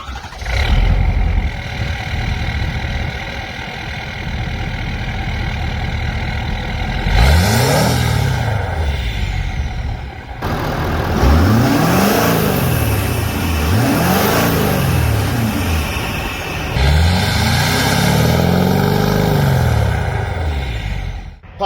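A Ford F-450 pickup's 6.7L Powerstroke diesel runs steadily and loudly up close, with several rising-and-falling revs swelling over the continuous engine drone.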